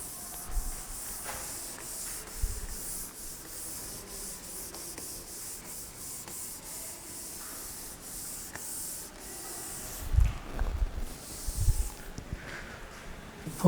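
Chalk or marker writing being rubbed off a board in a lecture room, long continuous scrubbing strokes close by, with a few louder bumps near the end and no talk.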